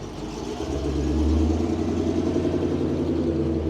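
A Dodge Magnum wagon with a swapped-in Hellcat engine rumbles steadily close by, its deep exhaust burble swelling slightly as it runs, loud and continuous with no talking over it.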